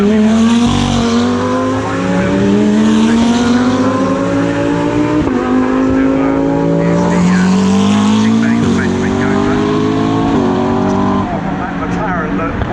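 GT race cars including an Audi at Brands Hatch during practice, loud engines rising and falling through gear changes as cars pass, with a commentator talking over them.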